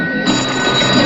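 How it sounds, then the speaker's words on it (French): A telephone rings with a bright, steady electronic bell tone, loud and close, in a brief burst. "c'est le téléphone pour vous"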